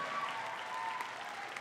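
A church congregation claps during a sermon: steady, dense applause from many hands, fairly distant and even throughout, with no voices standing out.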